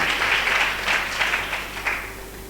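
A church congregation claps during a Sunday service. The clapping is loud and steady, with a slight rhythmic surge, and it fills the room before easing off toward the end.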